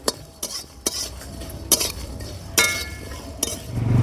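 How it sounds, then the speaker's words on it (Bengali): Whole spices rattling and clinking in a dry pan as they are stirred, with sharp intermittent scrapes and a faint sizzle near the end. "এগুলো আমি শুকনো খোলায় ভেজে হালকা ভেজে নেব"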